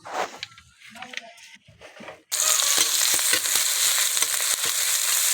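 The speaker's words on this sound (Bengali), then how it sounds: "আজ আজকে রান্না করব সর্ষে বাটা দিয়ে আমরা চাটনি সেই জন্য কড়াইয়ে প্রথমে বেরেস্তা করে নেব" Onions frying in oil in a wok (kadai), a loud, dense sizzle that bursts in suddenly after a few seconds of quieter handling sounds, with occasional stirring scrapes.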